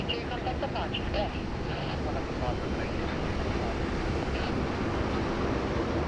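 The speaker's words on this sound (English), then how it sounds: "there she goes, taxiing past Terminal 2, heading off to the domestic 6 apron" An airliner taxies past Terminal 2 at Sydney Airport, its steady broadband engine roar and wind rumble continuing for the whole stretch, with faint voices in the background.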